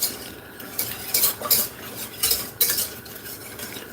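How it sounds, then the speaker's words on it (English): Thick cornmeal and carrot porridge being stirred in a pot, a spoon scraping and clinking against the sides in irregular bursts, close and moderately loud with no talking. "Ensure to keep stirring this because it's going to get really thick on you."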